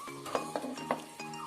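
Spoon clinks against a pot while fish-less fish curry is stirred, several sharp metallic taps at an uneven rhythm, close and fairly quiet.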